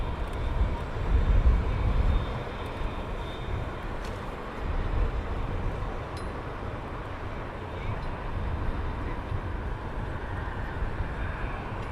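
Large airliner at London Heathrow Airport, a steady broadband engine roar that swells and eases over the stretch, heard from a distance with no clear talk over it.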